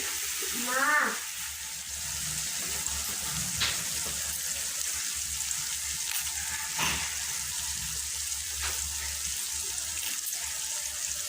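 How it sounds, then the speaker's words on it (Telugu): Coriander seeds dry-roast in a pan with a soft, steady hiss and occasional stirring scrapes, quiet and close, with a brief voice near the start. "నేను ఇప్పుడు ధనియాలను వేయించుతున్నానండి"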